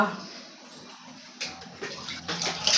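A small child splashes water in a dark bathroom, irregular sloshes and splashes growing louder toward the end after a quieter opening, with a voice speaking faintly.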